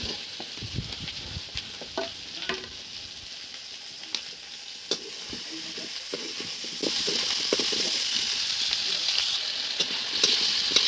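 Meat frying in a pan together with potatoes and pumpkin gives a steady close sizzle, with occasional scrapes and clicks of stirring, growing slightly louder and brighter partway through.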